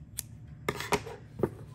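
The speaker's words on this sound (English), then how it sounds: "Grab my scissors." Scissors cutting yarn at a crochet project, a few sharp close snips spaced unevenly across a quiet background, with no talking.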